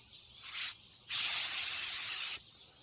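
A paint spray gun hisses in two bursts, a short one then a longer steady blast, laying a light first coat on an F-150's rocker panels, loud and close with quiet pauses between.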